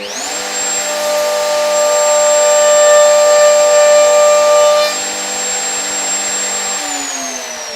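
A wood router cuts the edge of a trinket box lid, giving a loud, steady, high-pitched whine that holds for about five seconds, then eases into a slightly lower, quieter spin before winding down near the end.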